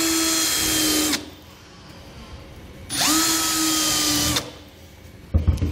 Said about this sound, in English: I'll go ahead and use my pilot bit to continue to drill all the way through.